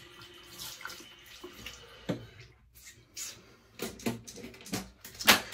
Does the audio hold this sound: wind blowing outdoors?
no